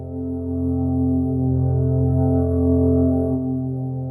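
A sustained pad from the Baby Audio Atoms synthesizer holds a rich, stacked chord, swelling gently and smoothly with no attack, warm and droning throughout.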